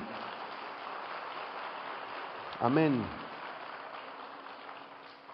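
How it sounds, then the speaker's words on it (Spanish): A church congregation applauds to give glory to Jesus during an evening sermon, a steady wash of clapping throughout with a single voice calling out briefly in the middle. "Dele un aplauso de gloria a Jesús"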